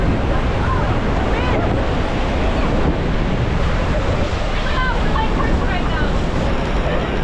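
A loud, steady roar of Niagara Falls fills the whole clip, constant and close, with heavy spray and mist, and faint whistly tones drifting over it.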